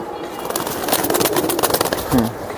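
A line-bred racing pigeon coos at close range, a short low call near the end amid steady background noise and voices.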